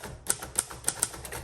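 Keys strike on a 1958 Royal Aristocrat manual typewriter, four crisp metallic clacks at an even pace, quiet and close, between softer mechanical ticks.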